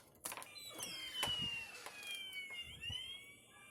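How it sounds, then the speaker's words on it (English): Siren alarm of a DIY home security system built around Amazon Alexa, set off indoors; a faint electronic wailing tone sweeping in pitch with sharp clicks and knocks scattered across it, no talk. "there's the strobe light going around the room, and there's the sirens going off"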